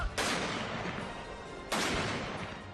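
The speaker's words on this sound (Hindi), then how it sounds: "जनरल बिपिन रावत को मुखाग्नि देने से पहले 17 तोपों की सलामी दी गई।" Two heavy booms from a 17-gun artillery salute at General Bipin Rawat's funeral, each a sharp blast followed by a long rolling echo.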